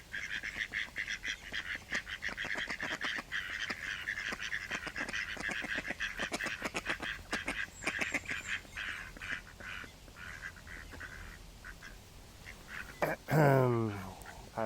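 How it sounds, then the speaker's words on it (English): Ducks quack repeatedly in loud, rapid bursts close by outdoors in autumn, a busy overlapping chorus that eases off near the end. "these ducks"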